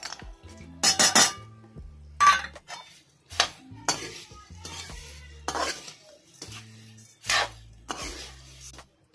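A spoon scrapes and clinks in a pan while fried thick poha, coconut, peanuts and turmeric are tossed together for chiwda, in repeated close bursts of metallic stirring separated by brief pauses.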